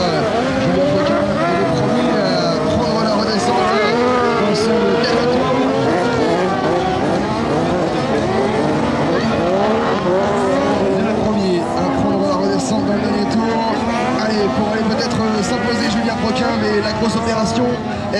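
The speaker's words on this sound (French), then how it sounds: "Julien Proquin est le premier à prendre la redescente dans ce dernier tour." Rally cars on a supersprint circuit at Les Cresnays, engines revving and buzzing continuously at middle distance while a commentator speaks over them throughout.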